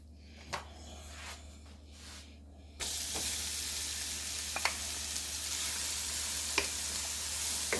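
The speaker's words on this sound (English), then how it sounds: "put the onions in here and the carrots and the garlic" Onions, carrots and garlic hit a hot Stirmax multicooker pot for loaded potato soup, bursting into a loud, steady sizzle after a quiet start, with a few sharp clicks and scrapes as they are stirred.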